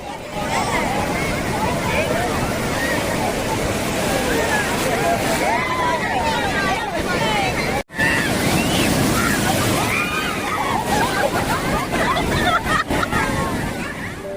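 Loud, continuous roar of surf breaking along the beach at Puri, with wind buffeting and a crowd's babble mixed in throughout.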